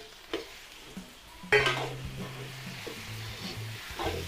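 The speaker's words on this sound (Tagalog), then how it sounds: "igisa po natin itong ating sahog, chicken fillet" Chicken fillet sautéing with onion in a pan: a soft, steady sizzle runs under repeated scraping stirs and light clinks of utensil against the pan, close by and with no talking.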